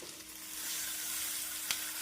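Onion and tomato sizzle steadily in a pan for chutney, a continuous close frying hiss with one brief sharper crackle near the end and no voices.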